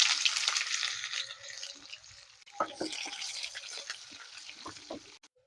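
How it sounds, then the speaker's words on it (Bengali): Chopped onions with bay leaves hit hot white oil and sizzle loudly at first, then settle into a softer frying crackle with clattering spoon stirs before fading out. "এবার পেঁয়াজের কুচিগুলো দিয়ে দিচ্ছি"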